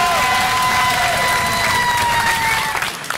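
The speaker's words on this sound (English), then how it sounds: "Applause to Jen Schachter" Audience applause at a maker event honoring contributors on stage, a dense burst of clapping with some cheering, fading out at the end.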